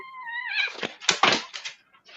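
A startled cat jumps and runs off, giving a brief rising meow followed by quick scuffling, thumping noises nearby, moderately loud and without talk.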